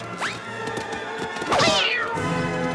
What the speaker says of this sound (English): Then does that mean there's a cat behind us?